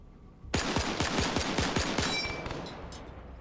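A machine gun fires in a video game, a rapid burst of about eight loud, evenly spaced shots that then trails off into a fading echo, with no talking.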